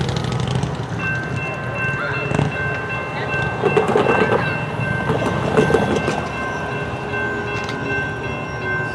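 An intermodal freight train rolls past in East Texas with a steady rumble and a rhythmic clickety-clack of wheels over rail joints. A tonal whine runs through it, and there are faint voices in the background.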